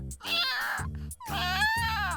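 A cartoon cat gives two drawn-out, close meows in quick succession, clear and alone.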